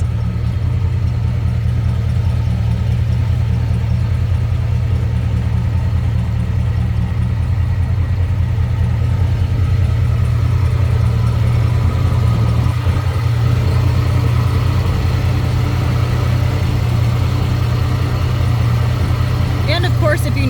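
A 1970 Lincoln Continental Mark III engine with a new exhaust idles steadily nearby, a deep, even rumble holding for the whole stretch.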